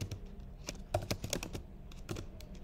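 Code is typed on a computer keyboard in a quick, irregular burst of soft key clicks close by, with short pauses between strokes.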